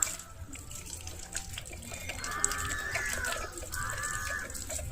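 A child rinses a toy vehicle and its front basket under a running tap, with steady splashing water and faint background clucking from nearby chickens.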